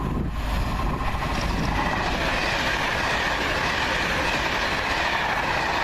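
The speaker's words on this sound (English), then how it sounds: "Comes the up service to Birmingham New Street from London Euston." An Alstom-built train runs the up service to Birmingham New Street from London Euston past Marston Green station, giving a steady close rumble with rail clatter and faint wind buffeting on the microphone.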